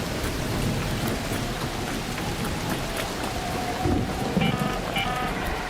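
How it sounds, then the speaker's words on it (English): Lightning storm in the ARC Raiders video game, with steady rain pattering on surfaces and a low rolling thunder rumble throughout, plus a few brief brighter crackles toward the end, no voices. "That's one monster of a lightning storm."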